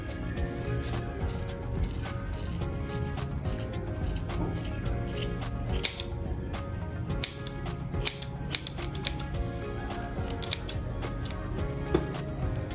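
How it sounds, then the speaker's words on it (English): Scissors cut straight across hair to shape a clip-in fringe with a scalp effect, repeated close crisp snips over a steady low background hum, with no talking. "If it is not horizontal, some parts will be uneven, so you go ahead and cut."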